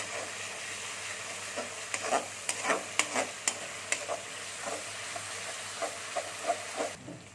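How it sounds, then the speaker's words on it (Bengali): Onion frying in oil for restaurant-style matar paneer, a steady close sizzle broken by frequent scraping and clacking strokes of a stirring spatula, with no talking. "পেঁয়াজটা আমি একটু ভেজে নিচ্ছি ভালো করে।"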